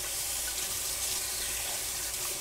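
Water flows from a kitchen tap to rinse off a measuring spoon, a steady, close, unbroken hiss of running water with no pauses.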